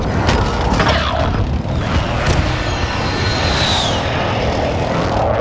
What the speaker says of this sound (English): Be advised, friendly position airstrike inbound.